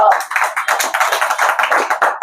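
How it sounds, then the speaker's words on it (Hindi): Applause at an office gathering fills the room in a loud, close, steady patter of many hands clapping together, with no speech over it. "मैं इस फीलिंग के लिए, इस भावना के लिए चाहता हूं सबसे जोरदार तालियां आएंगी।"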